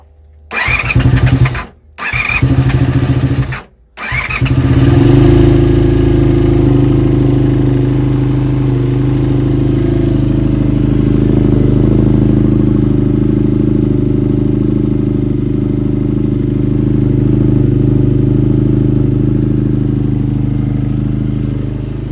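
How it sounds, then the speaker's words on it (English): A Honda VFR400 NC30 barn-find motorcycle engine cranks over in a few short bursts, then catches and settles into a steady, somewhat rough idle that runs on loudly and close up. "it seems like we've got a running bike"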